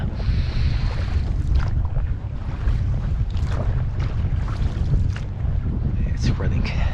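Breezy wind buffets a small dinghy on a choppy estuary, a constant rumbling roar of wind noise with splashing water and creaks underneath throughout.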